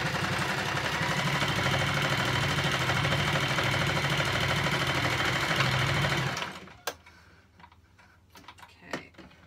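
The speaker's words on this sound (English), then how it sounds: "so you've now sewn all the way from one waist down to the crotch and back up the other side to the other waist" A domestic sewing machine stitches a seam on pajama bottoms from waist to crotch, a fast steady mechanical whir running loud for about six seconds before stopping, followed by a few faint handling clicks.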